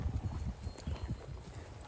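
Horse hooves clip-clop at a steady walking rhythm on a trail ride along California's Central Coast, close and fairly quiet, with no talk.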